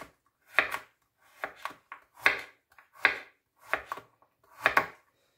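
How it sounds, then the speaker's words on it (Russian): Seven crisp knife chops through carrots on a cutting board, evenly spaced about a second apart, close and clear against silence. "Режем морковь."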